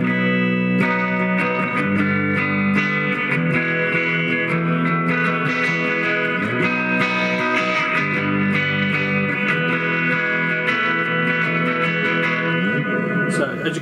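A homemade electric guitar with only a volume knob, played through an amp with heavy reverb, a steady run of sustained, distorted chords and notes with long echoing tails.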